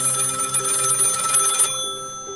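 A telephone bell rings loudly and continuously with a bright, trilling tone that stops abruptly near the end, leaving a lower buzzing hum.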